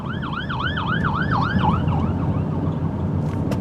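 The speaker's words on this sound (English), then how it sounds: "Look, it's an ambulance." An ambulance siren wails in a rapid rising-and-falling yelp, loud over steady traffic rumble, then fades and drops in pitch as it moves away.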